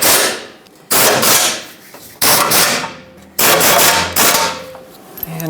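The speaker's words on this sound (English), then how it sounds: "Snug up all four 15mm headed bolts." Repeated bursts of a power tool, likely an impact wrench, snugging the 15mm bolts on the skid plate of a 2007-2014 Chevrolet Silverado 2500 HD. Three or four loud, close runs are separated by brief pauses, with no talk.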